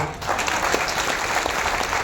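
A crowd at a Jan Suraaj political rally addressed by Prashant Kishor breaks into loud, steady applause, a dense, continuous clatter of many hands close by.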